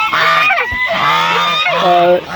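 Geese kept in an enclosed farm honk loudly and close by, several overlapping nasal calls repeating in quick bursts.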